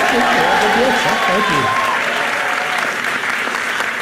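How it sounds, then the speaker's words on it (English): Applause from an audience at a university event for visiting middle and early college students, a steady crowd of clapping hands heard throughout, with a voice carrying over the start. "Yes, we can applaud them, please."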